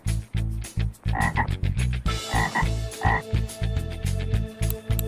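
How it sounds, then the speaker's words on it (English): A green frog croaks in loud, rapid bursts, a close series of pulsing calls with short gaps between them, nothing else underneath. "Green frog."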